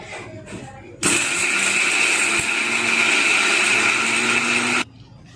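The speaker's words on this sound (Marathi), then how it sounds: "मिक्सर मधून ग्राइंड करून घेतो" A kitchen mixer grinder grinds masala in a steady, loud, high-pitched whir that starts abruptly, holds for about four seconds and cuts off, with faint background sound before and after.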